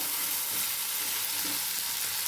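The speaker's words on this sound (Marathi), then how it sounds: "छान वांगी आपली परतली पाहिजे तेलामध्ये" Stuffed brinjals sizzle and fry in hot oil in a pan, giving a steady, close hiss throughout with faint stirring movements and no voices.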